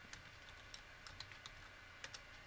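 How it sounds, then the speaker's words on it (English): Light keystrokes on a computer keyboard, a quiet, irregular patter of soft clicks close by with no voices. "I have a keyboard in front of me. I'm typing it."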